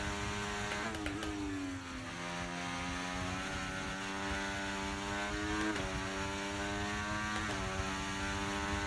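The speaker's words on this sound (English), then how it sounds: "It sounds like a lawnmower. It's a Mercedes engine, right?" Mercedes Formula 1 car engine in the F1 24 racing game, a buzzing, high-revving whine held steady with harmonic pitch sweeps as it shifts gears around 1, 6 and 7.5 seconds, continuous and fairly close.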